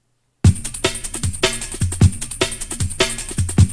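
A looped drum and bass break, time-stretched to the track tempo, plays alone with sharp, fast kicks and snares repeating in a tight, busy pattern at steady loudness.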